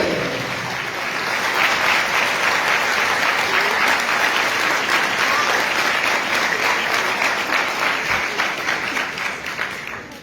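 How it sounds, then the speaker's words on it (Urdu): A congregation claps loudly at Christmas Night Mass, welcoming the arrival of Christ, building from a sparse start into dense, sustained applause that tapers off at the end. "آئے زوردار تالیاں بجا کر اس کا استقبال کرے۔"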